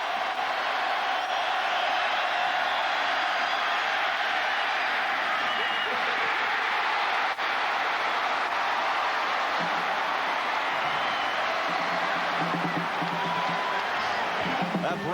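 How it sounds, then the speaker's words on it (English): A packed stadium crowd at a 1998 Penn State vs Pittsburgh college football game roars steadily in reaction to a play, a dense, sustained wall of cheering and noise that swells slightly near the end. "We'll let the crowd tell you what happens on this play."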